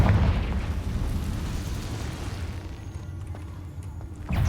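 A Confringo fire spell explodes in Hogwarts Legacy: a deep, rumbling boom that rolls and decays over several seconds, followed by scattered debris crackles and a fresh low thump at the end, with no talking.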